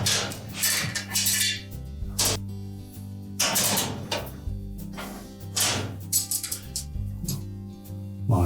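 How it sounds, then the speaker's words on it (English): Metal drip bowls are set back onto a Frigidaire electric range top, giving a series of irregular, close metallic clanks and rattles over a steady low hum, with no talking. "Now we can put the bowls back in place."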